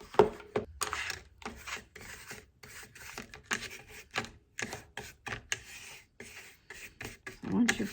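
Clear wax is rubbed over a molded decorative photo frame in short, repeated scrubbing strokes, close and dry, with brief pauses between passes.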